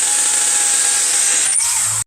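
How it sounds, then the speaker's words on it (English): A hammer drill with a concrete bit bores into a concrete wall, a loud, close, steady high whine that holds for about two seconds and then cuts off. "we're going to be using our hammer drill and our concrete bit"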